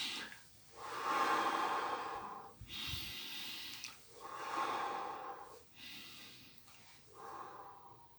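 Three slow, deep breaths, each a long airy inhale and exhale close to the microphone, separated by short quiet pauses.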